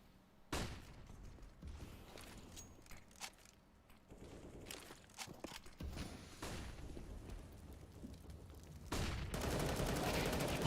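Rifle fire from a Counter-Strike match rattles in repeated bursts, some single cracks and sustained automatic sprays, loud and close, with a dense volley building near the end.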